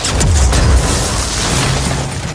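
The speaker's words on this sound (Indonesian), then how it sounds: "mobil pengangkut bom meledak dahsyat, jembatan hancur dan rubuh" A huge, roaring explosion of a bomb truck in a film, a bridge collapsing, booms and rumbles on, a dense blast of noise with a deep low rumble that barely fades.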